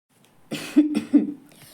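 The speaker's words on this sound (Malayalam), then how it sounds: "വന്നുകൊണ്ടവൾ ഒന്ന് ചുമച്ചു" A woman coughs a few times in quick, rough bursts, close and fairly loud, with quiet around it.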